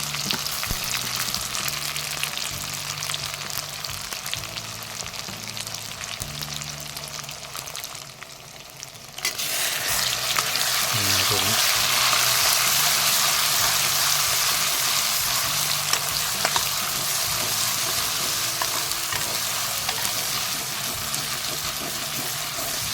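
Ginger-garlic paste fries in a pan for a country chicken dish, a dense continuous sizzle that briefly drops and then swells louder as the paste hits the hot oil, with occasional stirring clatter.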